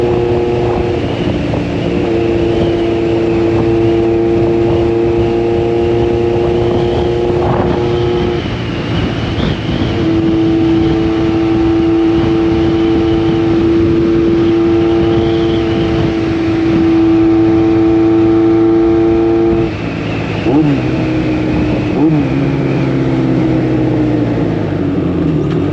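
A 1986 Honda CB1000 custom motorcycle idles and revs steadily, a loud close engine drone with shifting pitch and a throttle change near the end, no talking.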